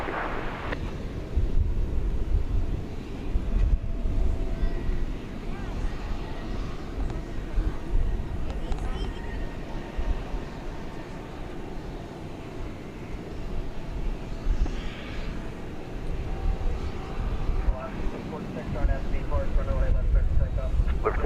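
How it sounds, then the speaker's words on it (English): Boeing 737-800 airliner at DFW Airport on a holiday weekend, a steady broad jet roar close by with wind buffeting the microphone, lasting throughout while a voice talks over it. "737-800. It is going to Portland, Oregon."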